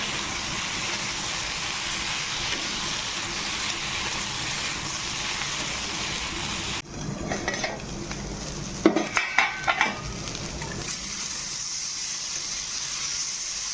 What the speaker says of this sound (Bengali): হলুদ লঙ্কাগুলো দিয়ে এবার ভালো করে মিক্স করে ভেজে নেব